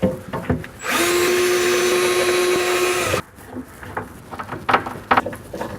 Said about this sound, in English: You can now drill and screw this into place.